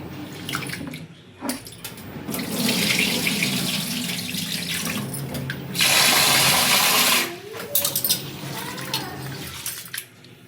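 Tap water runs and splashes steadily into a vessel while soaked rice for neer dosa is swished and rinsed, with a louder gush midway and faint clinks.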